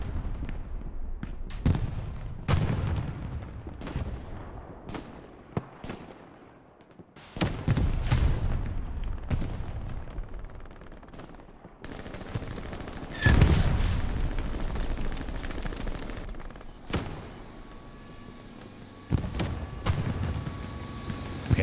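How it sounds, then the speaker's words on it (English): Rockets slamming into a Panzer IV tank in the video game Hell Let Loose, a string of distant booming impacts and crackling gunfire in irregular bursts, rising and falling in loudness throughout. "Panzer IV taking a whole bunch of rockets to the distance."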